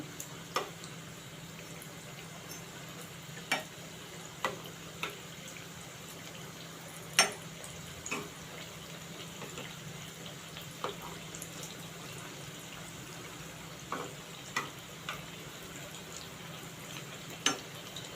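Crispy paneer cutlets coated in bread crumbs fry in a pan after being flipped, giving a quiet, steady sizzle broken by scattered soft pops and crackles.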